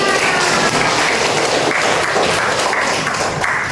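Students in a classroom clap together after a recitation of poetry types, producing a dense, even wash of applause that holds steady throughout without talk over it.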